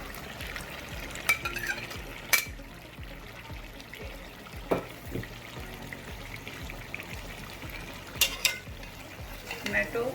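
Chicken korma frying in a pan as tomato goes in and gets stirred, with scattered metal spoon clinks and scrapes against the pot over a low, steady sizzle.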